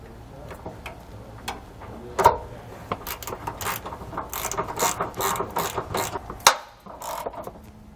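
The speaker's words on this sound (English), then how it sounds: "Now that we've got it started, we can just go tighten it all the way down." A ratchet drives a bolt into a weld nut while fitting a Timbren suspension enhancement system, giving rapid clicking bursts in uneven runs with a sharp clank partway through, close and fairly quiet.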